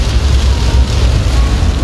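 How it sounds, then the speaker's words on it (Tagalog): Heavy rain pours steadily during a flood in Cavite, a dense, loud wash of rumbling noise with no gaps and no voices. "Lakas ng ulan."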